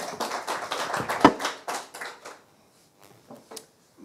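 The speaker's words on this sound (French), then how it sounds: "On accueille Aurélie chaleureusement par des applaudissements." A small audience claps to welcome Aurélie at a scripture-sharing gathering, a short run of scattered hand claps and taps that thins out and stops within a few seconds.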